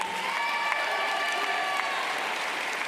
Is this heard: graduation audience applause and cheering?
yes